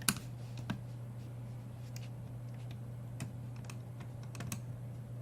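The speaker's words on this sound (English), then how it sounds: "If you hear clicking in the background, that's my son playing on the computer." A seven-year-old boy playing Minecraft taps away at a computer keyboard in the background, faint scattered clicks and keystrokes with irregular timing over a steady low electrical hum.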